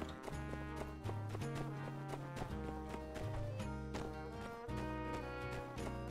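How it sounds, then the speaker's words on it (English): A horse gallops in the farming-life video game My Time At Sandrock, its quick hoof clops running under looping game music throughout. "Learned how to ride a horse"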